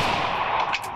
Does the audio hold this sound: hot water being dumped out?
no